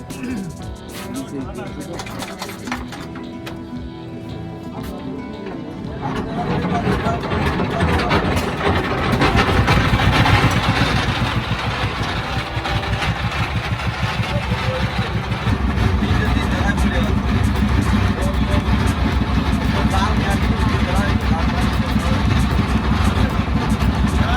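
A boat engine on Kaptai Lake, Rangamati, starts up and settles into a loud, steady chugging drone that continues throughout, with a voice faintly audible early on.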